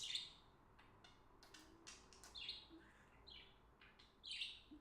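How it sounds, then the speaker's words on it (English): A pet bird gives a few bright chirps and squeaky calls indoors, faint and sparse, with a low background hum and no talking. "Such a good bird."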